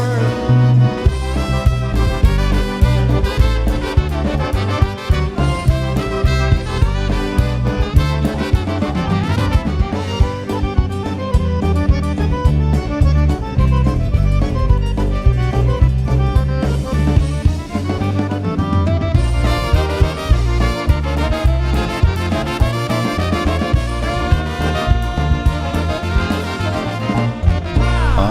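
A full polka band plays live, lively and dense throughout at steady loudness, with a strong bouncing low end and bright melodic lines over a driving beat.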